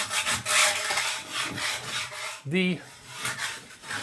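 Scraper rasping across a bare concrete bathroom floor being prepared for tile, a steady broadband scrape with repeated strokes, close and loud, broken by a brief squeak near the middle.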